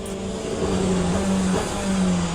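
A Porsche hypercar in the Le Mans Ultimate racing game runs with a steady mid-pitched engine drone and a faint rising tone, loud and continuous for a couple of seconds with no talk.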